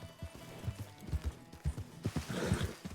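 A horse in the RedM roleplay game clip-clops along in a steady, moderately close rhythm of hoofbeats with faint breathy snorts, and the pace picks up near the end.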